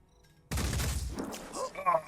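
Gunfire in the Echoes of the Ancients video game, a sudden heavy burst of shots with booming low end that rolls on, with a voice speaking over it.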